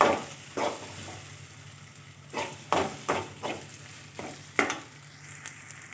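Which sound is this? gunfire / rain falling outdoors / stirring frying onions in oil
stirring frying onions in oil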